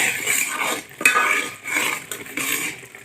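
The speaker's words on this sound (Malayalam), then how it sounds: "ഇത് ഇതുപോലെ നന്നായിട്ടൊന്ന് വേണം ഇളക്കി കൊടുക്കണം" A utensil scrapes and clinks against a pan in repeated stirring strokes, close and fairly loud, with no talking.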